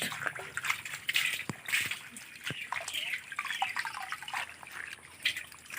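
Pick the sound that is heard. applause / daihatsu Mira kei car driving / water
water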